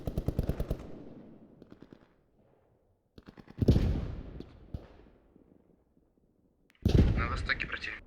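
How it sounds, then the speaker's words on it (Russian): An MG-42 machine gun in the Post Scriptum battlefield game fires in rapid bursts, some close and sharp, others fainter and farther off, with gaps of near quiet between them. "Пулемет с севера, МГ-42."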